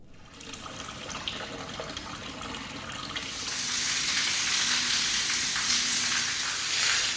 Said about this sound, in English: massive area here for you to enjoy your shower before you jump in there